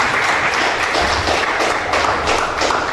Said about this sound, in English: A round of applause for our please.